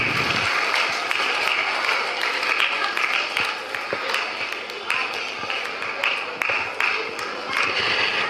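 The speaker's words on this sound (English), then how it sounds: "can we have a round of applause for" Children applaud at a school retirement program, with a steady crowd of clapping hands and sharper individual claps standing out, while voices talk underneath.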